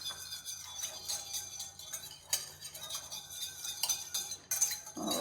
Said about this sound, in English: take a whisk and just whisk it until it's all blended, no more lumps